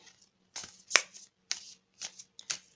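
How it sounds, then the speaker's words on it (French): Healing energy oracle cards being shuffled and drawn, a handful of short crisp riffles and slaps spaced about half a second apart, close and clear with no voice over them. "on va tirer une carte d'énergie de guérison"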